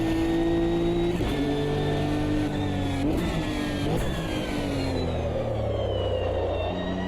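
Nissan GT3 race car in a racing video game, its engine note holding steady, dipping under braking and then rising again as it accelerates, loud and continuous throughout.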